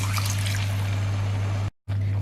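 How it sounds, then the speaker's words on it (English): Water is poured into a chicken marinade of black pepper, salt and sugar, a soft continuous trickle over a steady electrical hum that briefly cuts out near the end. "Now we can put our water."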